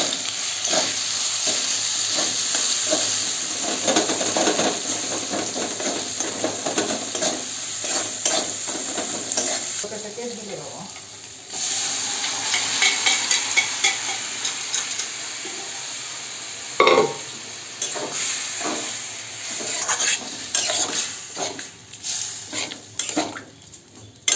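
Soaked chickpeas with cumin powder and sambar masala being stir-fried in a pan, with a continuous sizzle and frequent scraping and clanking of a utensil against the metal, loud and close, with no talk.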